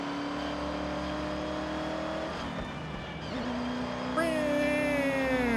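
Supercharged car engine in Forza Horizon 6 revving steadily with a high whine layered over the drone, dipping briefly mid-way before climbing again into a louder rising whine; no talk over it.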